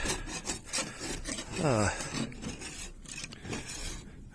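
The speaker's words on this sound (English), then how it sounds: "the idea was to scrape it and see if it dries better when it's a little bit messed up" A knife or scraper rasps over drying cherry plum fruit leather spread on a greenhouse roof, giving close, steady scratchy rubbing with a brief squeaky stretch partway through.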